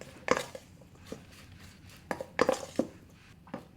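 Sushi rice being mixed with vinegar seasoning powder, heard as scattered soft knocks and scrapes of a utensil against a bowl, with irregular clusters of taps and quiet gaps between.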